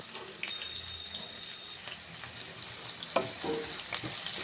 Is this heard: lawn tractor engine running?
no